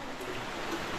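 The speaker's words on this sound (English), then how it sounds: "I can hear the sound of water." Steady broadband rush of flowing water inside Mawpun cave, a continuous wash heard close and alone with no voices over it.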